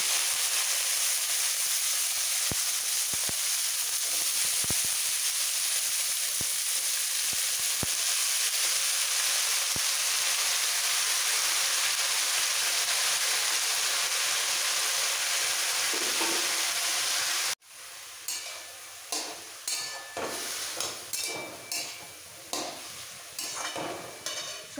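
Chopped, washed mixed vegetables for pav bhaji sizzle and hiss steadily in a hot pan, then a louder, brighter sizzle bursts up with rhythmic stirring scrapes close by.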